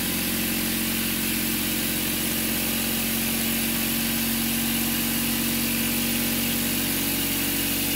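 Adams motor running up to speed, a steady loud whirring drone that holds continuously with no break, close by and alone without talk.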